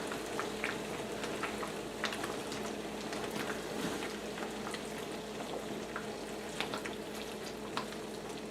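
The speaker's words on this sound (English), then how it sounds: "So now the stew is really boiling." A pot of beef stew with dumplings bubbles and gurgles steadily at a low level, with faint crackling pops throughout and no voices.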